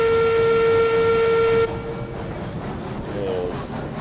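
A loud, steady Class 70 locomotive horn in the video game RailRoads Online blows for about a second and a half, then cuts off, leaving a low engine rumble and faint clanking.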